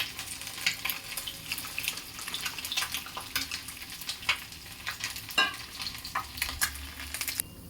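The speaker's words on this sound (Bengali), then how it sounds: "কড়াইয়ে ট্যাংরা মাছগুলো দিয়েছি একটা পিঠ ভাজা হয়ে গেছে" Tangra fish sizzling and spitting in hot oil in a wok, a steady close frying crackle with scattered sharp pops and occasional stirring clinks, no voices.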